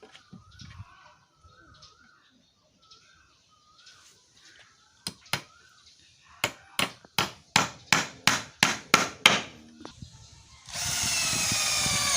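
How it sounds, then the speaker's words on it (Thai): Hammer blows drive in the 60 cm legs of a budget wooden shelf for plant pots, a run of about ten sharp, evenly spaced knocks after a few scattered taps, birdsong faint behind, ending in a burst of broadband noise. "ก็มาตอกขาด้านล่างนะครับ ไอตัว ขาตั้ง 60 เซนเราก็มาตอกนะครับ"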